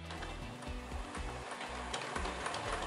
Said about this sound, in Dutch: met deze naaimachine kan ik ook borduren